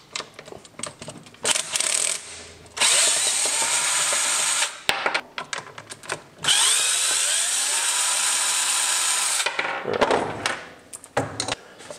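Power tool whirring in long sustained bursts as it backs out 4mm Allen head bolts from the rear fender of a 2024 KTM 390 Duke during a fender eliminator install, with shorter clicks and clanks of tools and parts between runs.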